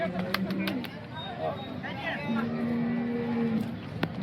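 Cow lowing at a busy cattle market in Sangola, Maharashtra, a long low moo rising out of a noisy crowd while people talk around it, with brief bird-like coos and clatter in the background.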